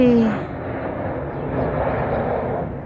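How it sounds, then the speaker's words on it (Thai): A fixed-wing airplane descending to land, its broad engine roar steady and moderately loud, heard outdoors with a faint whine at the start. "เครื่องบินกำลังจะลงพอดีเลย"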